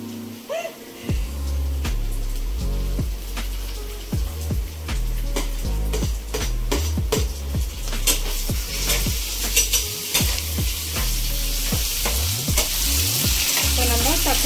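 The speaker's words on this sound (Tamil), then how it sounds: "இப்போ நம்ம தக்காளியை ஆட் பண்ணியாச்சு" Tomatoes sizzle and fry in a pan of oil for veg keema, with a continuous crackling hiss. Repeated clinks and scrapes of a spoon stirring against the pan come through close and clear.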